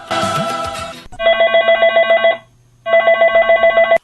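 A telephone rings for a caller phoning in to a radio programme: two loud, close bursts of rapid trilling rings separated by a short pause, after a brief snatch of music.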